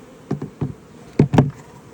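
Several short, low buzzing bursts from honey bees close by, coming in irregular pulses with quiet gaps between them.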